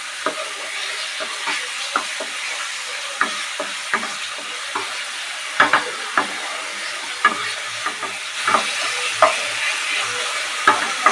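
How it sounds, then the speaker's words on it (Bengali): Spices stirred and frying together in a pan for a Bengali-style doi katla curry, steady sizzle with repeated sharp scraping clicks of the spoon, close and fairly loud, no talking. "সব মশলা একসঙ্গে মিশিয়ে নিতে হবে"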